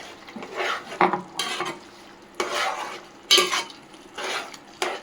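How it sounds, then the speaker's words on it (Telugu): Gongura chicken curry, Andhra style, stirred in a pan: a spoon scrapes and clinks against the metal in several separate bursts, each a short scraping stroke, close and fairly loud, with quiet pauses between and no voices. "మొత్తం షిఫ్ట్ చేసేసుకుందామండి ఒకసారి కలుపుకుందాం"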